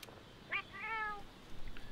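Cat meowing in the video game Monster Hunter World, one short high meow followed by a longer drawn-out wavering meow, fairly close and clear over quiet background.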